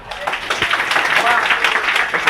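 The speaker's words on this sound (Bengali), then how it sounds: "তা মিমসের জন্য একটা হাততালি" An audience at a medical admission academy event breaks into applause, a short burst of scattered clapping over a lively room with voices mixed in.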